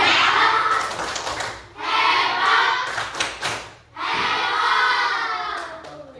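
Classroom of schoolchildren performing the 'tepuk hebat' clapping cheer, loud rhythmic group clapping in bursts mixed with chanting voices, three main rounds with short pauses between.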